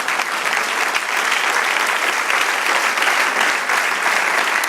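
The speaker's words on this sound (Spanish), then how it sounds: "Denle un aplauso al Señor." A church congregation claps in sustained, dense applause, loud and close, with no break from start to finish.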